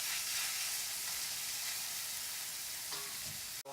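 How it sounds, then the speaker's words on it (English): A lean beef hamburger patty, 5% fat, fries in a pan with a loud, continuous hissing sizzle, close up and unbroken, with a brief clatter near the end. "while the meat is cooking"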